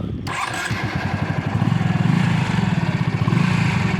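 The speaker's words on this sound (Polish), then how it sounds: "No brzmienie tego motocykla." A Honda Shadow 125 chopper motorcycle engine cranks and fires up, then settles into a loud, close, rhythmic idle with steady thumping pulses.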